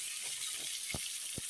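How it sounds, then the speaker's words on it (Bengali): Potatoes sizzle in hot oil in a home kitchen while biryani is being made, giving a soft, continuous frying hiss with a couple of brief knocks, quiet and without talk. "আলুটা ভাজা বসিয়ে দিলাম।"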